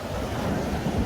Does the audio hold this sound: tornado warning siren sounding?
no